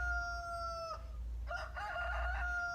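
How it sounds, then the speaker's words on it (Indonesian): A rooster crows twice in quick succession, a loud, clear cock-a-doodle-doo over a low background hum. "Ia naik ke atas pagar dan berkokok dengan keras tanpa henti."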